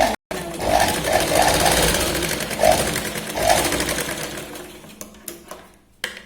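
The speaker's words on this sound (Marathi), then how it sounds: "कडेने आपण शिलाई लावतो." A sewing machine stitches the thin, slippery fabric of a katori blouse in rapid mechanical bursts, running loud and close for several seconds before slowing and stopping near the end.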